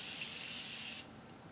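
A single continuous burst of makeup setting spray misted toward the face, a close bright hiss lasting about a second before cutting off abruptly to quiet room tone.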